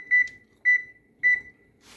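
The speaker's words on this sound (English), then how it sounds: "you're going to set your timer for 2 minutes" A kitchen timer beeps three times, evenly spaced, each beep a clear, close, high electronic tone, followed by a brief soft rustle.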